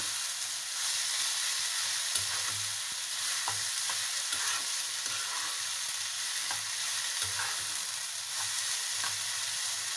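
Water spinach (kolmi shak) with coriander leaves is stirred in a hot pan, a steady broad sizzle running the whole time with soft scraping strokes now and then, close and fairly loud, no voices.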